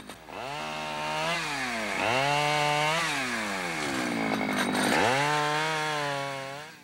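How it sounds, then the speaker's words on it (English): A chainsaw engine revs up and down in repeated surges, its pitch rising and falling through several cycles, loud and close. "loud sounds of engines and chainsaws"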